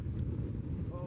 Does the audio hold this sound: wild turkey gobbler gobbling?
no